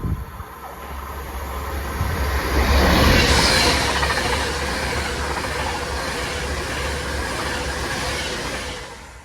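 An Avanti West Coast class 390 Pendolino, unit 390009, running from Manchester Piccadilly to London Euston, rushes past close by with a loud, sustained roar and rapid rhythmic wheel clatter that swells and then holds steady.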